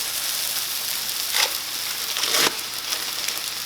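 Bologna slices frying in a pan give a steady soft sizzle, with a couple of brief louder crackling bursts partway through and no one talking.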